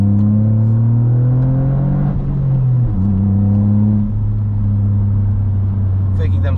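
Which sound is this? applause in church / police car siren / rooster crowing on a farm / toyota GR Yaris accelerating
toyota GR Yaris accelerating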